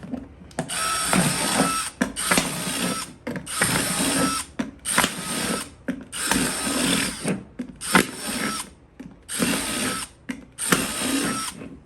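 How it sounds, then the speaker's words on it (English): A DeWalt power drill bores holes in the bottom of a plant pot for repotting a Hoya, running in about seven repeated bursts of whirring, each a second or so long, separated by short pauses. "So I'm just gonna drill some holes"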